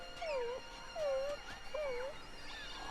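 A cartoon dog in the animated film Teacher's Pet gives three soft, rising-and-falling whimpers spaced evenly apart, faint and plaintive, with no talk during them.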